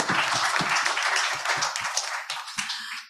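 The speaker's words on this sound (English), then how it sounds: "let's give them a clap" Brief clapping from attendees at a community plenary meeting, a lively patter of hands that thins out and fades toward the end.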